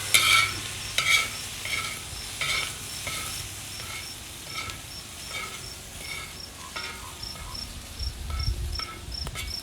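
A spoon stirs red chile into pork in a pan with fat, giving soft scraping and a sizzle. High, regular cricket-like chirps run through the background, and a louder burst of stirring comes near the end.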